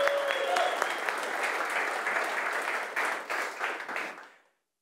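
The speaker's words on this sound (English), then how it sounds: "So you guys want to give him a round of applause." A room full of people at a company culture talk applauds in a dense, steady patter that thins into scattered claps and fades out to silence near the end.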